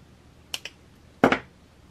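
Small cutters trim the wire tail of a strung beaded bracelet: two quick pairs of crisp, close metallic snips, the second pair louder, in a quiet room.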